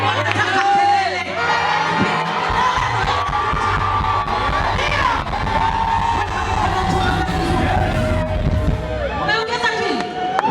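A gospel concert crowd in Kinondoni cheers, whoops and shouts loudly and continuously, with a voice speaking over the noise and a few higher yells rising through it.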